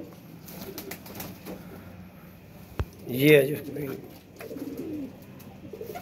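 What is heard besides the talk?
pigeons cooing in a crate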